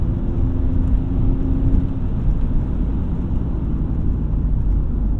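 Automatic BMW E36 driving along back roads, a steady loud interior engine and road drone with a slight whine early on, no speech.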